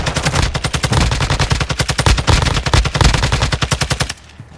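Sustained automatic gunfire from a video game firefight, a dense run of loud rapid shots close to the listener for about four seconds before cutting off sharply.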